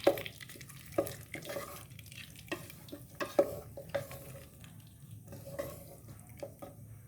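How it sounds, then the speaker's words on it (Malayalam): Potato curry being stirred in a pan, with soft intermittent scrapes and light clinks of a spoon over a faint background sizzle, close by and fairly quiet, without speech. "ഇതിൽ നല്ല ഒഴിച്ചു കൊടുത്ത് നല്ലൊന്ന് ഇളക്കി കൊടുക്കട്ടോ"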